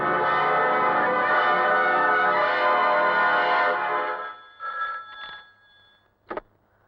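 An electronic telephone ring sounds continuously for about four seconds, then cuts off, followed by a few short clicks and handling noises.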